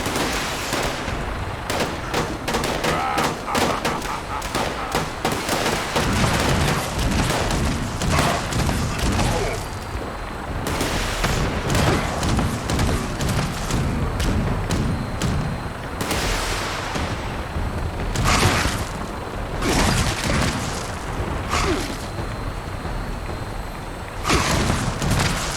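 Missile launcher fire and explosions in the video game Fallout 76: heavy booms and sharp gunfire-like blasts pound densely and loudly throughout, with a steady layer of battle noise and occasional faint speech underneath.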